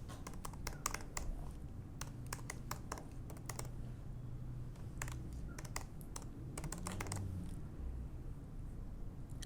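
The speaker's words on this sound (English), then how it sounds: "Type in your email address on the following page." Quiet keystrokes on a computer keyboard come in quick irregular bursts of clicks, close but soft over a low background hum.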